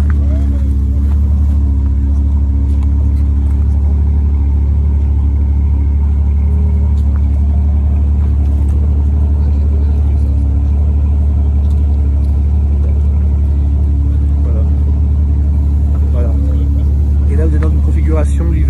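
Deep, loud engine rumble from a Ferrari 812 GTS at a Cars & Coffee meet, a steady heavy drone filling the scene with someone speaking over it.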